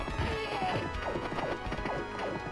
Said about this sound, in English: Can I not change the horse's direction? Walking horse.